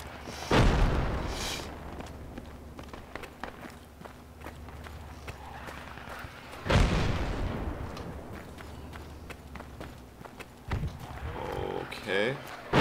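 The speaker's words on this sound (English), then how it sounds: "So mortars. Stay low." Mortar rounds exploding in the military shooter Project Reality, two heavy blasts several seconds apart plus a later thump, with footsteps and quiet talking between impacts.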